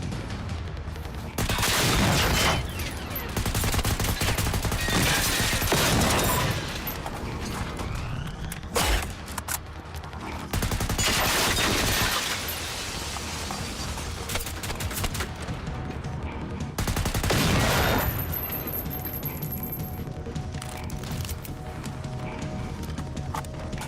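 AK rifle fire in the shooter game Generation Zero, coming in several loud sustained bursts that are spaced apart by quieter stretches of ambient game sound.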